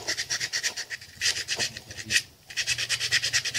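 Rhythmic hand rubbing smooths a part of a miniature truck model, quick scratchy back-and-forth strokes repeating steadily, close and fairly loud, with one short pause before resuming.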